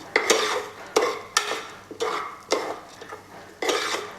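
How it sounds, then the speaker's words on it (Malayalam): Green gram payasam stirred in a pot with ghee, a spoon scraping and knocking against the metal in a steady rhythm of about seven strokes, close and clear, with no talk. "പരിപ്പെടുത്തു അത് കഴിഞ്ഞിട്ട് നന്നായിട്ട് ഇളക്കി കൊടുക്കുക"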